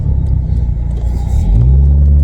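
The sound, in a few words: abandoned Volkswagen Vento car changing gear while driving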